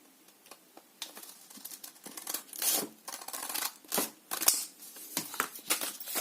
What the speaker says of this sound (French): Donc là je les mets comme ceci et je coupe ça comme ça.